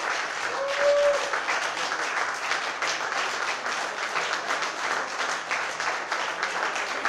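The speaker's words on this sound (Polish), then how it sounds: "brawa, gorąco." Sustained crowd applause at a rock music competition awards ceremony in Białystok, a dense, even wash of clapping that carries on throughout without speech.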